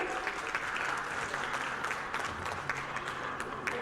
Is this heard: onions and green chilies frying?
no